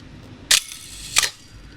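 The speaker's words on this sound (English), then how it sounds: "depress this shutter, this part here gets a bit stuck." Two sharp mechanical shutter clicks from a Bronica S2 camera, about two-thirds of a second apart, close and crisp over a quiet background.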